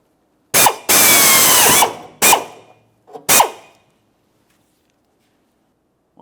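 A power drill whirs in several short bursts, one long run followed by two quicker ones, close by, drilling a hole while installing rear air shocks on a 1999-2006 Chevrolet Silverado 1500, with brief pauses and no talking.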